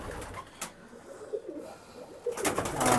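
Ablook high-flying pigeons coo softly in a loft, giving low murmuring calls with a few brief rustles nearby and no voices.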